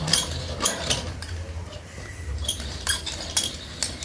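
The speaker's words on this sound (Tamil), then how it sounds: "தேங்காய் கொஞ்சம் திருவிக்கிடுவோம்." Coconut being grated by hand in a home kitchen, a series of close, rhythmic scraping and rasping strokes with metallic clinks, repeated steadily, with faint background voices.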